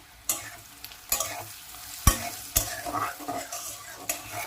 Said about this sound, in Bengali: আলু আর পেঁয়াজটা খুব সুন্দর ভাজা ভাজা হয়ে গেছে